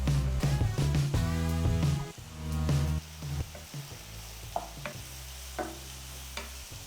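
Mutton frying with turmeric powder in a pan, a soft continuous sizzle broken by scraping stirs and occasional clinks of the spatula, heard up close without talk.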